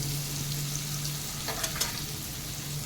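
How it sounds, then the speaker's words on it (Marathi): Finely chopped onion with turmeric and asafoetida fries in a pan with a steady close sizzle, broken by a couple of brief spatula scrapes midway; no voices. "आता हा कांदा थोडासा गुलाबी रंगाचा होईपर्यंत परतून घेऊयात"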